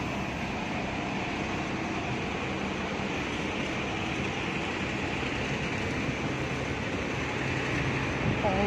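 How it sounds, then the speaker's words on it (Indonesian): A steady, continuous rumble and hum of a moving train carriage on the way to Wan Chai, Hong Kong, constant in level throughout, with faint voices in the background. "Mau naik kereta tuh."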